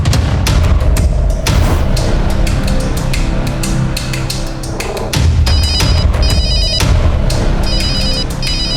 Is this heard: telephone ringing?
yes